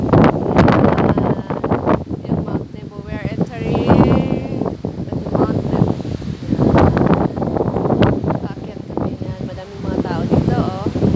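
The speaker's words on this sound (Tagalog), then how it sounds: "Sobrang hangin." Wind gusts buffet the microphone in a steady, rough roar beneath people talking close by.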